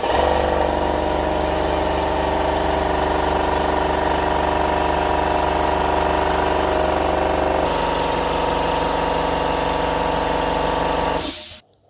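A newly bought air compressor runs loud and continuous, its motor droning steadily while it pumps up, then shuts off abruptly at the very end.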